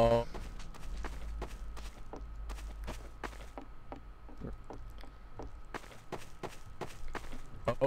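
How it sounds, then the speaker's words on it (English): Footsteps in the Hitman video game, a steady series of light, evenly spaced treads running throughout at low level beneath faint background noise. "I hear footsteps."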